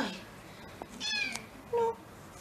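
A house cat meows softly a few times, short rising calls spaced apart against a quiet indoor background.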